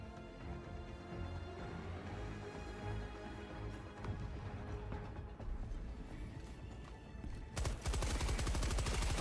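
Machine gun fire in Helldivers 2 comes as dense, continuous volleys over loud game combat, ending in a sharp burst of rapid shots near the end.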